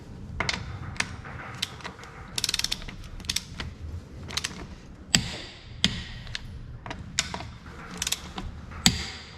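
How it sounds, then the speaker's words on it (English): Torque wrench tightening the wheel nuts on a Lotus Elise to 77 foot-pounds, a series of crisp ratcheting clicks in irregular bursts with a sharp snap at each final torque, close and distinct. "we're just gonna torque our wheel nuts on the Lotus"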